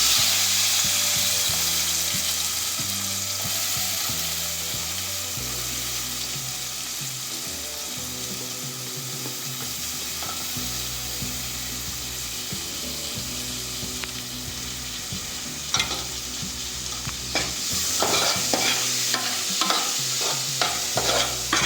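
Onions fry in oil after mustard seeds have popped, with a steady sizzle while a utensil stirs and scrapes the pan in irregular strokes, close up, with no talking.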